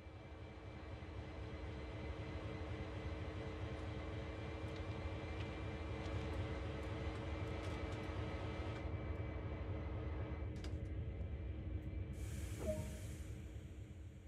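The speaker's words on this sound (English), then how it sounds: "Climb aboard this locomotive and we'll get started." A CSX heavy haul diesel locomotive idles in Train Sim World, a steady low rumbling drone with constant hiss and a faint tonal whine, close and unbroken, with a couple of brief clicks near the end.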